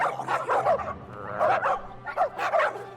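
Cartoon puppy dogs with glowing red eyes bark and yip in rapid overlapping bursts, a busy pack of high excited yelps over a steady low background hum.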